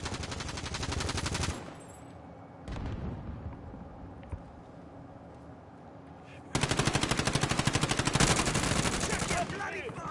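Heavy automatic gunfire in the battle-royale game Warzone on Rebirth Island, long loud bursts of rapid fire that stop and start again, with a brief quieter gap and voices talking underneath.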